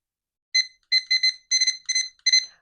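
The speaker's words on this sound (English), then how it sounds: "Let me set an alarm" An electronic kitchen alarm timer sounds a series of short, bright, high-pitched beeps in quick irregular bursts while an oven is being set, loud and close against silence.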